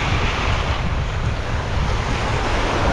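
Rough, choppy sea surf breaking steadily on an island shore, a dense continuous wash of water with wind buffeting the microphone throughout and no voices.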